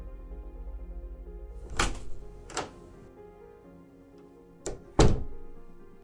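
A door thuds shut twice, then two more sharp knocks or thumps follow after a quiet pause, close and solid.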